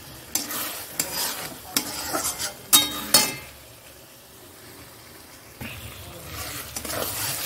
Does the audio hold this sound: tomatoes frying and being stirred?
yes